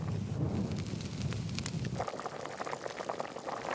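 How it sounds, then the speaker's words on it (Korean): Broth with bean sprouts boiling hard in a pot over high heat, a dense bubbling roar that shifts into lighter, brighter bubbling and spatter partway through, close and steady with no voices. "국물이 솥을 넘치기 전까지 센 불에 파르르 끓입니다"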